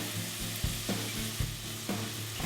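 Chopped onion and garlic sauté in a hot pan with a steady close sizzle, broken every so often by soft scraping stirs.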